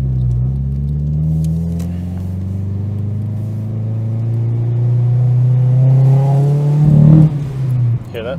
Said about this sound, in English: But if I give it full throttle, it starts misfiring.